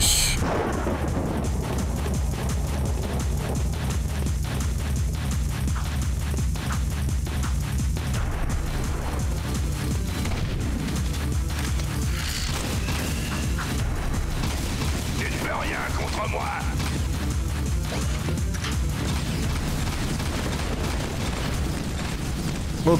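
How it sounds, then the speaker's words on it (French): Explosions and battle noise from the video game Jak II, with booms and dense mechanical clatter running continuously at a loud, even level for the whole stretch. "Attention aux grenades"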